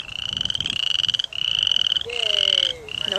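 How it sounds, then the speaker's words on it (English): Frogs croaking near a campsite at night, dense rapid trilling calls in close repeated bursts with brief gaps, loud and near, a rising whistle-like note sliding underneath partway through. "I think they're frogs."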